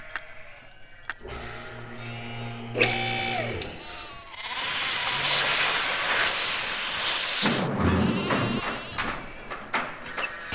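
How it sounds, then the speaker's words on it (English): Sheep bleat in Nancy Drew: The Haunting of Castle Malloy, several wavering cries mixed with hissing game sounds and a noisy stretch in the middle. "We got some stylish sheep here."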